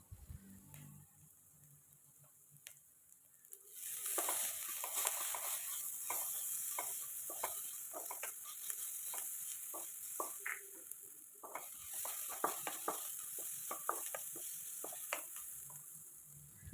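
Ginger garlic paste sautéed with onions in a pan sizzles faintly at first, then a stronger, steady frying hiss sets in, with repeated spatula scrapes and taps spaced irregularly through the stretch.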